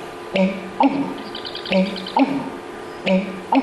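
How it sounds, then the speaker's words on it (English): American bittern, the thunder pumper, giving its gulping pumped song near a parking lot, a series of deep paired low pulses repeated at a steady rhythm, fairly close and clear. "It is our only North American bird that makes its song by burping."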